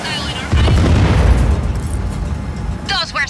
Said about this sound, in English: Those were some big explosions!